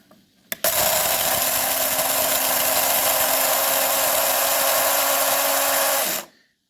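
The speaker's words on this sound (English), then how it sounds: "Let's grind us some coffee beans." An electric grinder whirs steadily through a load of coffee beans, a loud, even motor roar that starts abruptly after a brief click, runs about five and a half seconds and then cuts off.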